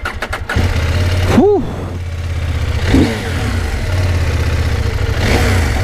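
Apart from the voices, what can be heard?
CFMOTO 800MT motorcycle engine starting and revving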